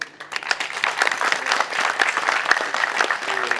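Audience applause at an association gathering, the Souk des savoirs in 2015, a dense, sustained round of clapping from a sizeable crowd in a room, steady and fairly loud throughout.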